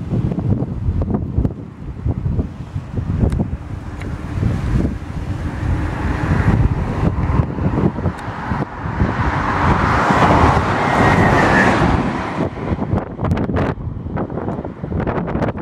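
Wind gusts steadily across the microphone at the bridge over the Tensift river in Morocco during flooding, a loud continuous rush with passing road traffic mixed in and no talking.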